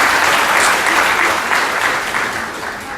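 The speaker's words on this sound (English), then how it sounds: "So give yourselves a round of applause." A large lecture audience at a book talk on Islam and science breaks into loud, close applause, a thick crackle of many hands clapping that eases slightly over three seconds.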